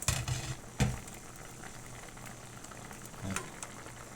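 A pork hock simmers in a covered pot, a faint steady bubbling hiss broken by a couple of soft knocks.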